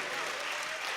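Audience applause at a Hindi poetry recital, a dense steady wash of clapping hands filling the whole moment at even loudness, with no pauses or single claps standing out.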